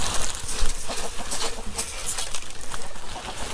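Chickens fed corn in a small backyard coop, giving soft, scattered clucks and pecking noises at close range, layered over a steady outdoor hiss with no talking.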